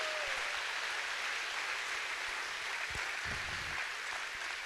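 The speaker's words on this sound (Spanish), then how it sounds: "Dele un aplauso al Señor si usted lo cree." A church congregation applauding during a Spanish-language sermon, a faint, steady wash of clapping heard from a distance.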